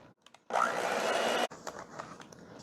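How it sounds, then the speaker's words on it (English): An electric mixer beating cake batter with powdered sugar whirs loudly for about a second, then cuts off, leaving faint scraping and clinks in a quiet kitchen. "I'm just going to use a mixer."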